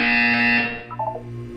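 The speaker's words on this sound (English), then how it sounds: "You will hear a buzzer." A steady electronic buzzer tone from the video game Portal 2 holds for about a second and then fades, joined by a few short bleeping notes, loud and alone.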